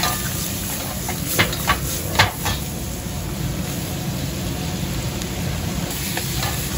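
Seafood sizzles and is stir-fried in a Chinese wok in a professional Korean restaurant kitchen in Shin-Okubo. A loud, steady hiss of frying runs throughout, with a few sharp metallic clanks early on and no talking.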